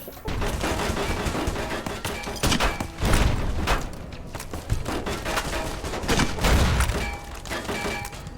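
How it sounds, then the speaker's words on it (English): Repeated bursts of enemy gunfire in Fallout: New Vegas, rapid overlapping shots and thuds crackling continuously through the whole stretch with no talking. "Can the guy shooting at me stop?"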